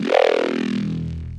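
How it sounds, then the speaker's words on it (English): A single growling Serum synth bass note with a buzzing, raspy tone, no phaser or filter, sustained for about a second before cutting off abruptly. "So without the phaser and the filter, it sounds like this."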